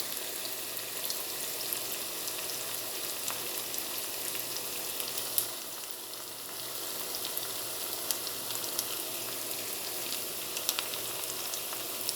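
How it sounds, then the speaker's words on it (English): Vegetables fry and get tossed in a hot pan, giving a steady, close sizzle that stays even throughout with small scraping touches, and no talking. "So here we go, tossing around our vegetables."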